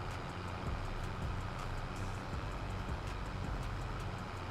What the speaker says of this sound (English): We got a train coming.